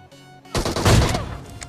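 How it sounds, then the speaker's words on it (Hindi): Gunfire in the game PUBG, a sudden loud burst of rapid shots that breaks in after a quiet moment and rattles on close by for about a second. "आसपास से फायर हो रही है"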